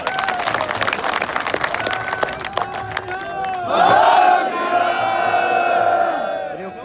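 A crowd at a Delhi protest gathering claps in a rapid, scattered burst for a few seconds, then breaks into loud shouting and cheering voices that fade out toward the end.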